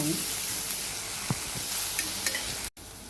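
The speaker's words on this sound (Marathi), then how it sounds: "एक चमचा हिरवं वाटण लसूण जिरं आणि हिरवी मिरची वगैरे वाटलेली आहे आणि पण परतून घेऊया आपण" A green paste of garlic, cumin and green chilli frying in oil, heard as a steady close sizzle with a few light spatula taps and a brief dropout near the end.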